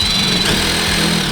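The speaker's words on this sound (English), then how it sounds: "I'm now going to screw this on just with some general wood screws" A power drill drives general wood screws through a bracket onto the pillar of a camper van, giving one continuous high motor whine that shifts in pitch as the screw bites, close and loud.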